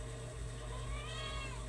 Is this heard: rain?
no